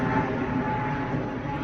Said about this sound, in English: I got a plane overhead.